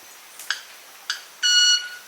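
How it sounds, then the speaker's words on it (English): A male club-winged manakin in Colombia vibrates its wings: two sharp ticks a half second apart, then a sustained, buzzy, violin-like ringing tone, close and clear against a quiet background. "he vibrates his wings to create violin-like sounds to impress females"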